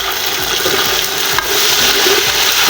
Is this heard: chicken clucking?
no